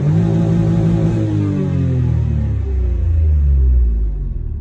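A Citroen C1 car engine runs loud and close, its droning hum sliding gradually lower in pitch as it revs, with no voices over it.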